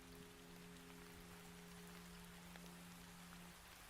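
Rain falls steadily as a constant, dense hiss of drops on a surface, with a low electrical hum running beneath it for most of the stretch.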